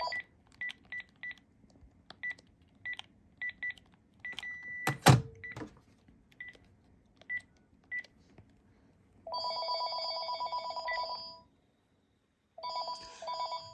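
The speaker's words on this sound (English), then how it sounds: "the first ring does not follow the ring cadence for whatever reason" A Panasonic KX-TG6524 cordless phone rings at close range, first with short beeping chirps and a sharp clatter, then in two long electronic ring bursts separated by a pause.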